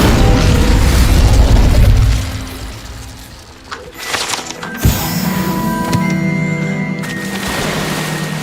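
A fire spell cast in the Hogwarts Legacy video game: a loud roaring burst that fades, followed by crackling, popping magical effects and a sustained ringing hum.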